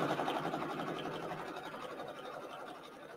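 Brother PRS100 embroidery machine sewing a tack down stitch for an applique, a fast rapid whirring stitch rhythm, fairly quiet and steady, fading slightly over the short stretch.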